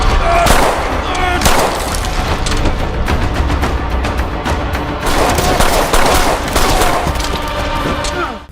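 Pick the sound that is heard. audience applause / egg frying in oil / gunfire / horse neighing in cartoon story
gunfire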